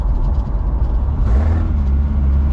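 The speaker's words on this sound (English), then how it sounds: "See the downshifts." Nissan Hardbody truck engine rumbling steadily from inside the cab while driving, a loud low drone whose pitch shifts midway as it downshifts.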